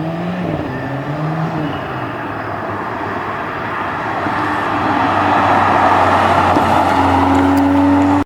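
A Mercedes GLA 45 AMG car engine, a steady close droning hum that swells louder toward the end as revs rise, with no voices.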